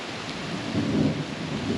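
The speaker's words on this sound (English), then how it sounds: "Just a random thunderstorm rolled through." Steady heavy rain pounding a vehicle during a passing thunderstorm with hail, a dense continuous roar with a low rumble swelling near the middle, no voices.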